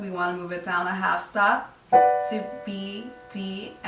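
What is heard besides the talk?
No everyday noises stand out.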